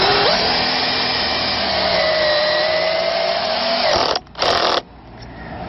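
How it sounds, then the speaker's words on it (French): A power drill drives large screws into pallet wood planks while building a garden shed, its motor whining loud and steady for several seconds before cutting out, briefly revving again, then stopping. "on visse bien, on fait en sorte de bien venir chercher la partie pleine derrière avec des gros vis"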